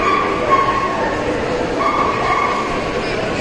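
Dogs yip and whimper amid a busy hall at the European Dog Show 2021 in Budapest, Hungary, with a continuous crowd murmur and tonal hum underneath; people talk nearby.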